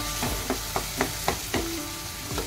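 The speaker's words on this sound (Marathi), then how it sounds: "टोमॅटो पण आपला चांगला शिजू द्यायचा।" Finely chopped tomato cooking in a pan for a field bean dish, a low sizzle under a series of evenly spaced utensil scrapes and taps, about one every half second, near and moderately quiet.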